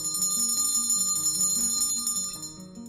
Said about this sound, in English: We gotta ring the bell for that.